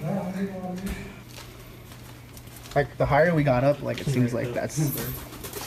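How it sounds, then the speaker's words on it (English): An owl hoots inside an abandoned school, a few low cooing calls near the start, followed by excited overlapping talk from people reacting nearby. "That's a fucking owl."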